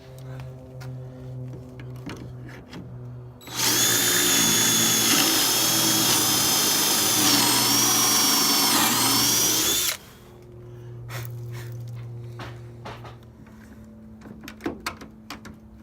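A power drill whirs steadily for several seconds near and loud, driving 1.5-inch pocket hole screws through a 1-inch board set in a Kreg pocket hole jig, with faint workshop clatter before and after.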